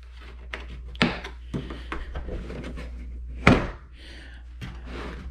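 A Tekton 3/8-inch drive 6-point master socket set case is handled and opened up close, giving a quiet series of plastic clicks, taps and two sharper snaps of the latches against a low background hum.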